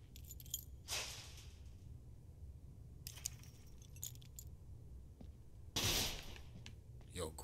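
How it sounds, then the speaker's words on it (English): Keys jangle in the game Firewatch, with two bright metallic rattles near the start and later on. They sit over a low, steady background hum, and a voice talks around them. "grab the keys"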